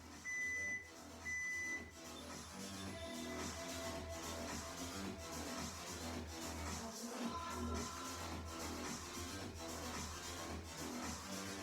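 An interval timer during a circuit training workout gives two short, bright beeps at the start, and a continuous, faint background din fills the rest of the clip.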